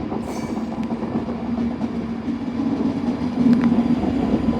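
An LNER Azuma train departs Carlisle station on the West Coast Main Line, a steady rumble of wheels and traction hum with faint clicks, growing slightly louder toward the end, with no talking.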